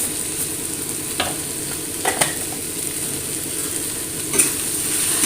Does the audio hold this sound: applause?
no